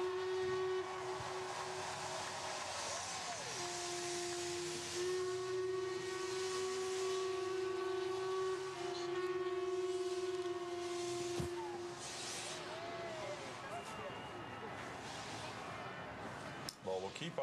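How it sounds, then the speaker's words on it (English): Horns and a steam engine whistle blow on the River Thames during a jubilee river event, with a long sustained whistle tone over crowd noise and a presenter talking throughout. "you can hear some of the horns blowing in the background as well"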